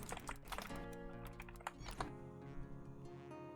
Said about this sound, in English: Also, I'm sorry if you can hear my typing,